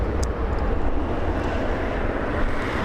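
Korean Air Airbus A380 departing LAX, a loud, steady broadband engine roar that holds nearly constant throughout, close and continuous with no pauses.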